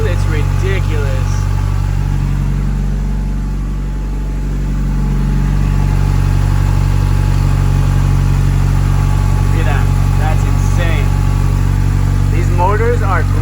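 A Honda Accord engine idling smoothly after a timing belt and water pump replacement, with a steady low hum throughout and a slight dip in level partway, plus faint chirps in the background.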